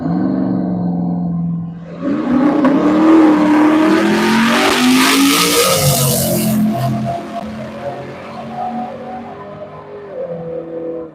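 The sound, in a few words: Chevrolet S10 drag racing truck launching at the track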